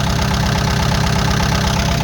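A Kubota L4708DT diesel tractor engine idles close by, a loud steady low chugging rumble with a regular knocking pulse, running alone without voices.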